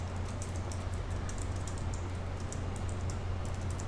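Typing on a computer keyboard during an intention-writing session, quick light key taps in an irregular run over a steady low hum, fairly quiet and with no one talking.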